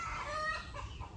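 Chickens on a backyard garden farm give a brief, moderately close burst of clucking and squawking calls lasting about a second, with no one talking.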